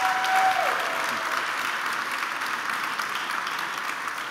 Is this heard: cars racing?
no